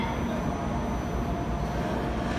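An E4 series Shinkansen train departing Tokyo Station rumbles steadily nearby, a dense low roar that holds even throughout with no break or pause.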